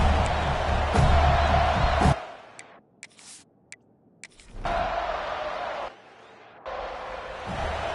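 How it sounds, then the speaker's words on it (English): Home crowd cheering in the EA Sports College Football video game, a dense roaring wash of noise that cuts away abruptly, leaving sparse ticks and knocks before the crowd roar swells back in. "this home crowd is fired up and ready to make a difference today"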